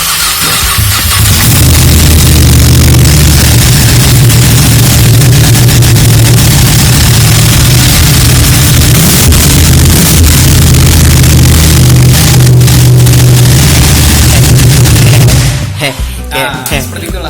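A Ducati motorcycle with a Termignoni exhaust runs loud and close, holding a deep, steady rumble for about fifteen seconds before it cuts off abruptly.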